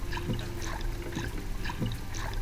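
A frog scuffs and splashes its way across floating vegetation on water, making a steady, wet rustling with soft, rhythmic splashy bursts and no voices.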